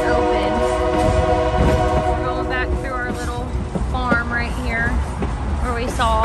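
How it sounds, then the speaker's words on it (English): A passenger train rolls steadily along the rails with a continuous loud rumble and squealing wheel tones, while people talk over the noise. "Our train seems to be slowing down a lot."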